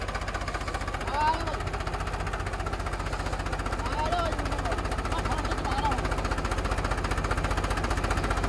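A tractor engine, from a power test between a Mahindra 265 DI, a Sonalika DI 750 and a Swaraj, labours while pulling, giving a steady rapid knocking chug with a constant drone throughout as voices shout nearby.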